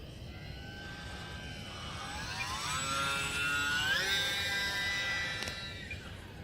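A UMX Mini Timber RC park flyer plane flies past outdoors with a thin electric whine. The whine builds, climbs in pitch as the plane nears, then fades slightly over a steady background hiss.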